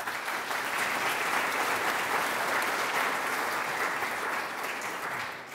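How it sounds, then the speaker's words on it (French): An audience applauds the director general at a community organisation gathering, a sustained round of clapping from a sizeable crowd that holds steady for several seconds and then begins to taper off. "notre directeur général, M. Richard Fortier, et on peut l'applaudir."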